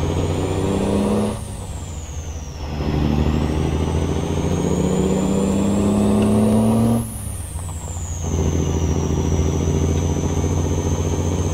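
Marmon cabover truck in American Truck Simulator, engine droning loudly and climbing in pitch through two gear shifts, each marked by a brief dip in sound before the engine pulls again.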